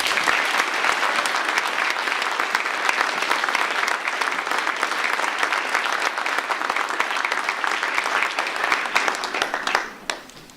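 A school achievement ceremony audience breaks into dense, sustained applause that holds steady for about ten seconds, then quickly dies away.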